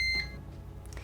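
A Ninja air fryer oven set to bake at 180 gives a short, clear electronic beep at the start, followed by a low hum.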